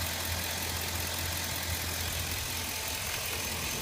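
A 2007 Chevy Silverado engine idling quietly, a steady, even low hum and drone with faint broadband hiss, unchanging throughout with no voices.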